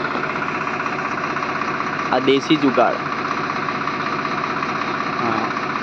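A tractor stuck in mud runs its engine with a steady, continuous low rumble from start to finish, while someone talks over it in the middle.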